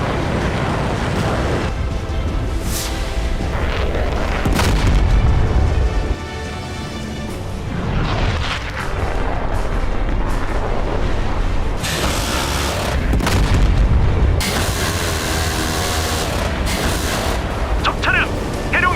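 Haeryong missile fired at enemy vehicles in a South Korean military setting, heavy booming launches and rushing roars with a loud continuous rumble, under Korean voices and radio talk.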